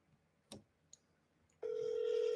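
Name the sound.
telephone ringing on an outgoing call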